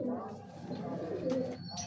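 Pigeons coo in a low, continuous murmur close by, with a soft chirp and faint movement over it.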